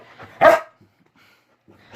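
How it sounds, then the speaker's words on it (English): A dog gives a single loud, close bark with a short yip-like tail, followed by near silence and faint low sounds near the end, with no one speaking. "Why are you barking? Why you gotta bark?"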